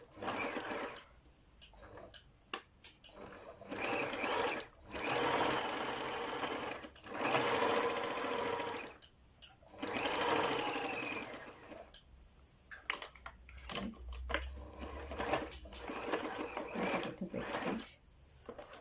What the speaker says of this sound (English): Back stitch a little bit, and then you pivot your needle. You continue sewing.